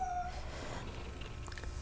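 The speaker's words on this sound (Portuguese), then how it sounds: "larga esse gato idiota para lá" A house cat gives a single short, faint meow right at the start, then only quiet room noise follows.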